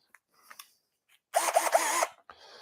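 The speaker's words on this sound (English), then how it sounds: "So we just have a standard drill and a 3/16 bit. We're going to come in here and we're going to drill both of these holes." A standard power drill with a 3/16 bit bores into the hood of a 2003 Ford Focus SVT, a single whining burst of under a second, close and loud, between quiet clicks and handling noise.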